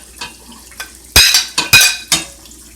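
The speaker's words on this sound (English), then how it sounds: "Take a little of this grease, fried meat grease. And I'm going to saute the bacon." Bacon sautéing in fried pork chop grease for smothered cabbage: a few loud, sharp bursts of sizzle and pan clatter as it is stirred, with quiet gaps between.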